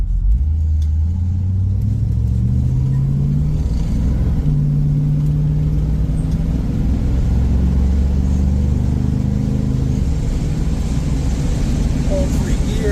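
A 1965 Chrysler 300 with a 383 V8, an unrestored Arizona car, cruising down the road: a steady, loud low engine rumble runs throughout, with someone talking over it.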